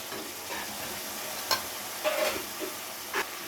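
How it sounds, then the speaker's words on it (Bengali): Masala with sugar stirred in a frying pan for doi begun (eggplant in yogurt gravy), a soft continuous sizzle broken by a few short scraping strokes of the spoon, close and fairly quiet. "খুব ভালো করে নাড়াচাড়া করে চিনিটাকে মিশিয়ে নিতে হবে"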